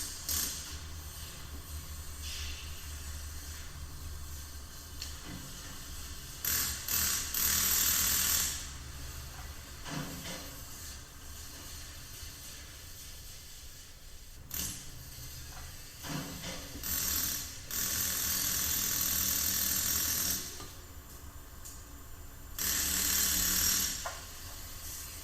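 A ratchet clicks in repeated bursts as water pump bolts on an engine are torqued down in stages. The clicking is close and alternates with short pauses, and nobody speaks.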